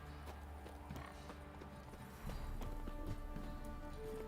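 Roach the horse galloping in The Witcher 3: steady rhythmic hoof clip-clops throughout, a snort or whinny mixed in, the pace picking up and growing louder partway through over a low game ambience.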